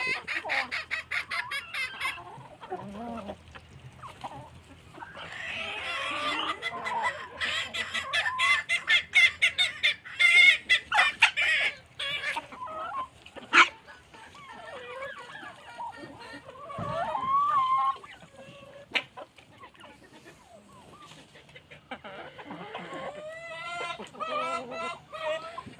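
Chickens and other fowl on a farm clucking and squawking continuously, with a few sharp louder calls and a rooster-like crow among them, fairly close and busy throughout, with a faint bit of talk in the background.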